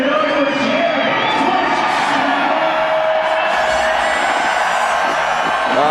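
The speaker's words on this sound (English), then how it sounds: "the crowd loves Stenberg" A large crowd at a Red Bull X Fighters freestyle motocross event in Canada cheers, whoops and yells continuously and loudly, a dense wall of voices with no pauses.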